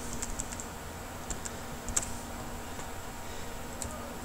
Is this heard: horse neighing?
no